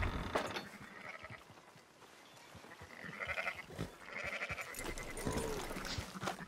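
Sheep bleat quietly in Red Dead Redemption 2, several calls spread across the scene, with creaking mechanisms and a faint game backdrop.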